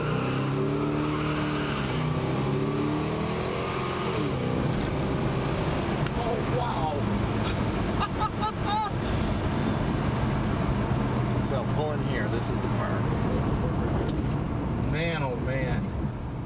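A vintage car with a custom-built engine accelerates at full throttle, a loud racing engine roaring and revving through gear changes over a long stretch, with speech mixed in.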